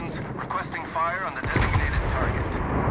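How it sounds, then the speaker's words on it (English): Naval gunfire in World of Warships, with Kriegsmarine warships trading salvos: a deep, rumbling boom swells up after the first second and holds as low, rolling thunder beneath steady commentary. "There is another ship that's shooting him"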